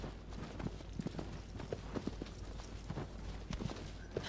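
Hooves of Agro, the horse in the video game Shadow of the Colossus, clip-clop in a steady trotting rhythm, moderately close over a low background rumble.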